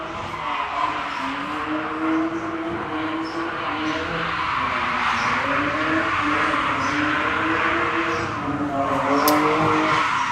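A drift car slides through the clipping zones at a Cyprus drift championship practice, its engine wailing and tires squealing in a long continuous skid, loud and sustained with rising and falling pitch.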